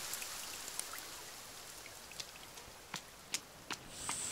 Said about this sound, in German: Scheiß Regen.